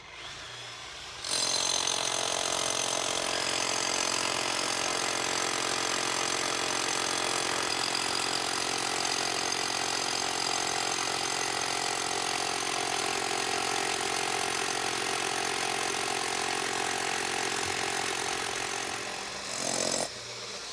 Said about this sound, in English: To drill holes, we're going to drill holes into the ledge itself